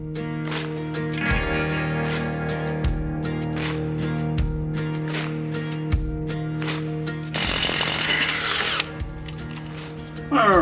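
Power tool working shock bolts on the rear suspension of a Chevy Cruze 1.8 Turbo: several short whirring bursts with pauses, then a longer harsh rattling impact run, up close in a garage.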